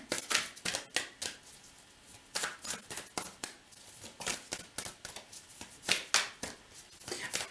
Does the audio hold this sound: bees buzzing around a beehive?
no